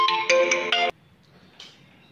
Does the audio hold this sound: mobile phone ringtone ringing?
yes